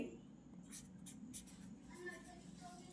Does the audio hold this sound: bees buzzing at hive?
no